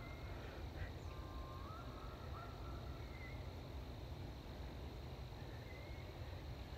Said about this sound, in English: I think those are Canadian geese. Talk about it. Talk about an echoing honk.